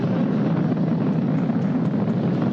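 Steady, loud broadband rumble of a SpaceX Falcon 9 rocket during ascent, a dense unbroken roar strongest in the low range, with no voices.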